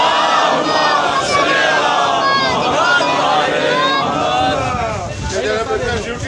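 A large crowd loudly chants salawat in unison during a religious procession, a dense roar of many voices rising and falling with cheering throughout.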